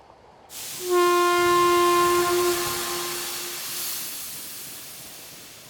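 A passing train sounds a long, loud multi-tone horn under a steady hiss of rolling stock, the horn holding for several seconds before fading into a continuing rumble.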